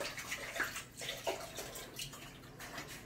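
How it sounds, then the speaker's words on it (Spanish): Water poured into a pot of masa while tamales de chipilín with cheese and beans are being made, a soft splashing trickle with small drips, fairly faint and close by. "Voy a estar poniendo más agüita"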